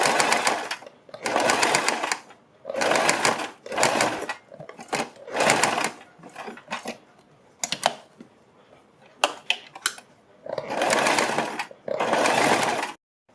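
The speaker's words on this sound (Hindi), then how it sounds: "और तब इसके ऊपर सिलाई लगाएंगे।" Sewing machine stitching the neckline of a suit or kurti, running in several loud bursts of rapid needle chatter separated by short pauses, with quieter handling sounds between runs.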